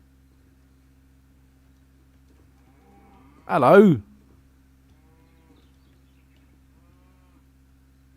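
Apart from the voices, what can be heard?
cows mooing in the video game Hytale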